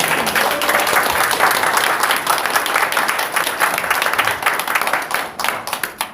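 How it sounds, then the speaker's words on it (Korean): An audience at a gathering of right-wing civic group leaders in Korea applauds a lawmaker's introduction with dense, sustained clapping that stays loud and fairly close for several seconds before thinning slightly at the end. "뜨거운 박수 부탁드립니다."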